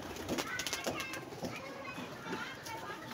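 Pigeons cooing softly among a flock kept by a pigeon keeper, faint repeated coos with a bird call or two, under talk and the sound of children playing nearby.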